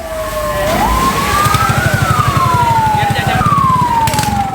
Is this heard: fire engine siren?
yes